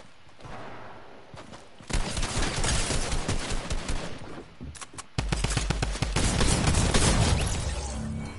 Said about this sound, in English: I hear the shotgun blast, it's right in front of me